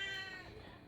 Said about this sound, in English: Cat, can you shush?